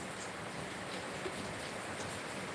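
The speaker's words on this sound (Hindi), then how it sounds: "यहाँ पे भी बारिश चालू है, बारिश हो रही है" Steady rain falls outdoors as a continuous soft hiss of drops, moderately loud and unbroken, with no voices over it.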